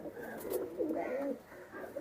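A golden pigeon coos softly nearby in a short series of low, rounded calls, heard alone without talk.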